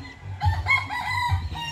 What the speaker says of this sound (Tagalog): Likod bahay, mga manok ni Papa.